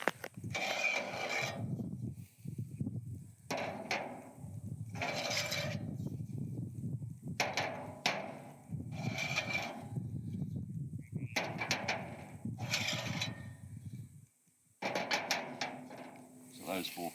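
Metal arms, legs and uprights of a tripod poly pipe spinner are unpacked, giving repeated bursts of clanking, rattling and knocking at close range, separated by short pauses. The scraping metal contacts recur in irregular groups.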